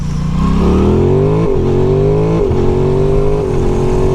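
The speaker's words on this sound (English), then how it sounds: "this bike is still in the break-in period, so I'm going to shift a little soon, but still with full throttle" A 2022 Aprilia Tuono 660 Factory motorcycle in break-in accelerates hard at full throttle, its loud engine note climbing and then dipping briefly at each of three quick upshifts spaced about a second apart.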